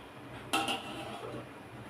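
A lid set onto a cooking pot of simmering egg kurma with ground coconut, poppy seed and fennel, giving one sharp metallic clink and a quick second rattle, then quiet kitchen background.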